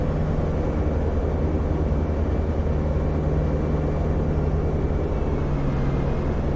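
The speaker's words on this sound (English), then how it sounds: "Oh, I love the sound of this airplane." Steady, loud droning roar of a P-47 D30 Thunderbolt's piston engine in the DCS flight simulator, continuous and unbroken with a strong low hum throughout.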